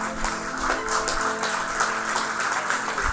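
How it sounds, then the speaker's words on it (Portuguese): Steady applause fills the space, dense clapping from a congregation at a prayer seminar mixed with some sustained music underneath, holding at an even level throughout. "Você pode aplaudir o Senhor por isso."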